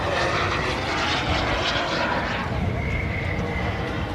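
A model aircraft flies freestyle aerobatics at the LMA Elvington airshow, its engine a loud, continuous whine that rises and falls as it manoeuvres overhead.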